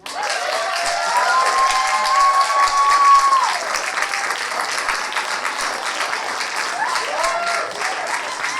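Audience applause with cheering at a storytelling competition chapter meeting, a steady dense wash of clapping from a full room with a few whoops rising over it, lasting throughout.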